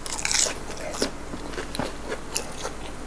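Crisp raw vegetables being bitten and chewed close up, with several sharp crunchy bites and crackling chews spread across a few seconds, no talking.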